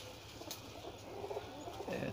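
Flying pigeons coo softly in a loft in Amra Kalan, a low, rolling murmur running steadily through the moment with a faint hint of a voice underneath.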